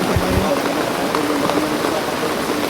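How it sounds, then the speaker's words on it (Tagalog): Heavy rain pours down steadily in a dense, loud hiss, drumming on surfaces nearby without letup. "Ay, grabe ulan."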